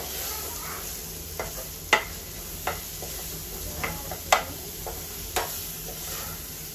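Spices are sautéing in a pan for a dry masoor dal curry, giving a soft, steady sizzle punctuated by a few sharp clicks and taps of a spoon against the pan, no voices.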